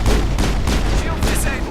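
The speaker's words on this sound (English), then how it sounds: "Garrus, will you stop walking in front of my bullets?" Rapid gunfire from the Mass Effect video game, dense and loud, with repeated shots and booms packed together throughout.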